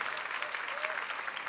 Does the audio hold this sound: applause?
yes